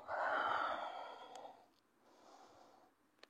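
A long, breathy exhale sounds close and soft during a Pilates stretch, fading out and followed by a quieter second breath in a still room.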